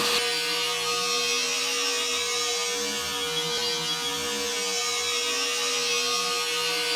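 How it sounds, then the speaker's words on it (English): A steady, high-pitched vacuum cleaner motor whine runs unbroken throughout, close and loud, with a constant airy roar and no speech. "now we'll take our vacuum and suck that up."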